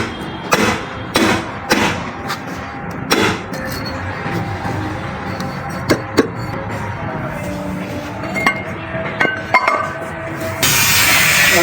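Metal parts of an e-bike hub motor with a jerking, winding fault knocking and clinking as it is opened, scattered close taps and thuds with brief pauses between them and no talk.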